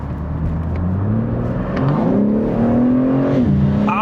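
A 2023 BMW M3 Competition xDrive (G80) engine revs hard at high RPM, heard loud and close from inside the car as its pitch climbs steadily, holds, and then drops.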